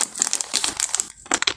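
Paper crumpled in the hands during work on a Yamaha Aerox 155 engine block, heard as close, rapid crinkling bursts with a short pause partway through.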